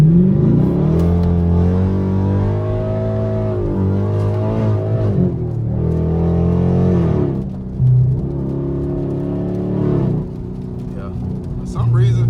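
A catless 500 hp Camaro SS revs and accelerates hard in city streets, loud and close, its exhaust note rising and falling in several pulls with short lifts between them, with talk mixed in.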